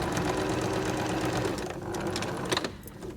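A sewing machine runs a straight stitch through quilt pieces with a continuous close, buzzing whir that slows near the end, followed by a couple of sharp clicks.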